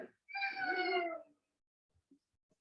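A cat lets out a single long, drawn-out meow close by, loud and alone, followed by a couple of faint soft knocks in a quiet room.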